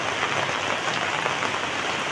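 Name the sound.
heavy rain during a typhoon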